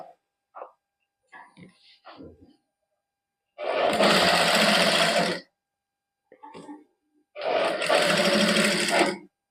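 A sewing machine stitches fabric for a lace-trimmed sleeve design, running in two loud bursts of about two seconds each, separated by quieter handling and shuffling noises.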